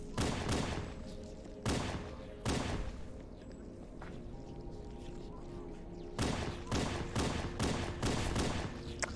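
Rapid bursts of gunfire in Halo: Combat Evolved, several clustered volleys at the start and a dense run toward the end, loud over a steady game soundscape with a low hum between shots.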